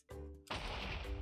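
Minecraft TNT blocks detonating around leather boots in a video game, a sudden loud blast breaking in after a brief low hum, with a dense crashing roar sustained to the end.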